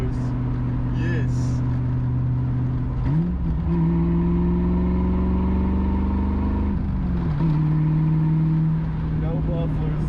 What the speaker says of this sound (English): Subscribe if you like the sound of no mufflers.